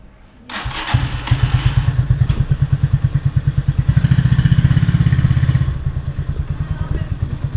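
A motorbike in Vietnam roaring to life and idling with a loud, close, steady rapid putter that swells slightly midway, then settles back to a chugging idle with no one talking.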